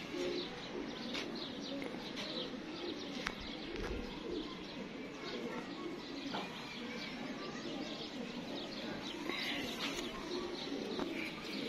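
Pigeons cooing on a rooftop in Gujranwala, with soft repeated coos and scattered chirps over a faint steady outdoor hum. A few brief wing flutters are audible.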